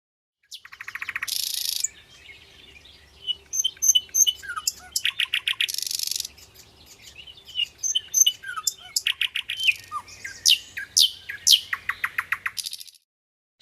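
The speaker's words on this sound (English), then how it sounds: "nightingale" Nightingale song, loud and close: rapid trills, whistled notes and buzzy bursts delivered in separate phrases with short pauses between, with no other sound around it.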